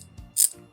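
A fine-toothed KTC 90-gear ratchet wrench gives a brief burst of quick clicking, with a sharp bright rasp in the middle and soft mechanical handling around it, close and alone.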